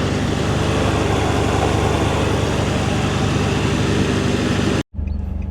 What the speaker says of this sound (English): I think it is either a bigger exhaust leak or a boost leak.